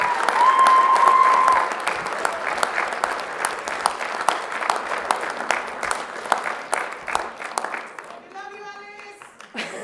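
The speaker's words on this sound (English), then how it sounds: "just take a minute to give them a round of applause" Graduation audience at Nescot's 2018 higher-education ceremony breaks into sustained applause for staff, a dense wash of many hands clapping steadily throughout with cheering under it, tapering slightly toward the end.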